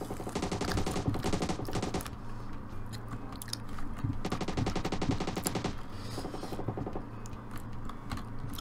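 Rapid automatic gunfire in PUBG Mobile, repeated bursts of fast shots in several volleys, mixed with crunchy chewing noises close up between the bursts.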